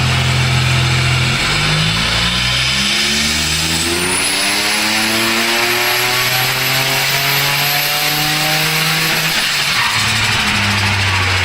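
VY Commodore V6 turbo on E85 with larger injectors revving hard on a dyno, loud sustained engine note with rising harmonics sweeping up through the run, a high turbo whine above, then dropping off near the end.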